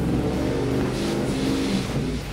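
A supercharged 1989 K5 square body truck revs hard and steadily, its loud, rough engine roar held near and constant for the whole stretch with no talk over it.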